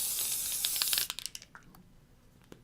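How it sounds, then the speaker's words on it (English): A steady aerosol hiss from a glitter spray can for about a second, then stops, leaving a few small clicks and taps in a quiet room. "you spray it on there like almost like a hairspray"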